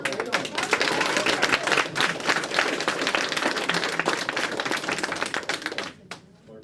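Audience clapping at a county special meeting on a regional jail vote, a sustained burst of many hands with sharp individual claps, fading out near the end with some voices mixed in.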